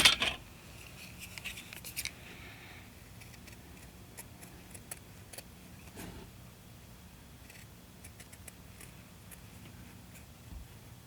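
Scissors trim a small piece of material, heard as a few crisp snips near the start. After that come quiet faint ticks and rustles close by, with no talking.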